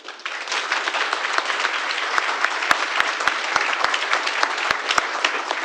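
A township board meeting audience breaks into steady, dense applause that carries on throughout, with a few sharp louder claps standing out near the end.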